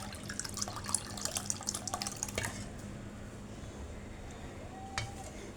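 Burnt sugar yogurt mixture is poured into bowls, giving a soft running, splashing liquid sound with scattered drips and clinks early on, then a quieter steady trickle and one faint ring near the end.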